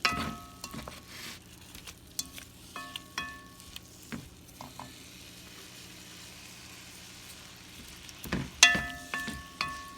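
Meat seasoned with garlic salt cooks in a pan for vegetable beef soup, a soft, faint sizzle punctuated by scraping stirs and clinks of a utensil, busier near the end.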